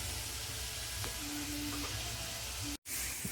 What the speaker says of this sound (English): gonna soften the onions and the garlic up a little bit